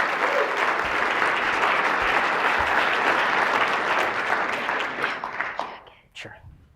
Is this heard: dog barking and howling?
no